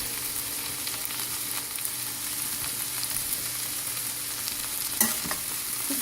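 Broccoli and snow peas frying in sesame oil in a pan, a steady close sizzle with faint stirring scrapes and one brief clatter near the end.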